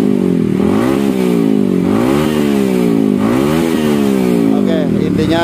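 Yamaha WR motorcycle fitted with an SKR racing exhaust revs loudly and up close, its engine note climbing and falling in repeated throttle blips across the clip.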